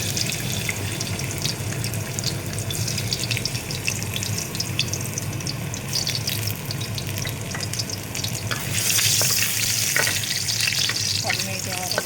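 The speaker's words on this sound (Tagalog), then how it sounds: "una muna natin igisa yung luya" Ginger sautés in a hot pan with a loud, dense sizzle and scattered clinks from stirring, and the hiss grows brighter toward the end; no one speaks.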